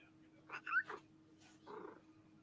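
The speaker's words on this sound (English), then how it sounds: "I hear a cat." An indoor house cat gives a few short, faint meows in quick succession, then a softer, lower mew after a pause, over a quiet background hum.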